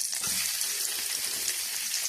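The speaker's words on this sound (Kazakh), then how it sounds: "Енді сковородкамызға 20-30 грамм сармайып салып, жуанымызды қуырып аламыз." Onions fry in 20 to 30 grams of butter in a frying pan, giving a steady soft hiss and crackle that runs continuously at low volume without any talk.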